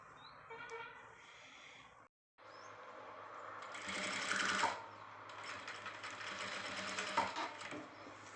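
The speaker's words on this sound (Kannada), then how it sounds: "ಈಗ ಸ್ಟಿಚ್ ಹಾಕ್ಕೊಳ್ಳೋಣ" A sewing machine stitches a designer blouse in a home tailoring setup, running in a steady mechanical whir that stops briefly, then resumes in longer, louder bursts.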